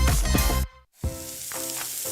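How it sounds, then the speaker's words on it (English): Gain scent booster beads poured into laundry, a dense rattling, sizzling cascade of small pellets that cuts out briefly and then resumes as a steady hiss, close and without any talk. "That's the sound of James adding long-lasting Gain scent boosters to his laundry this morning."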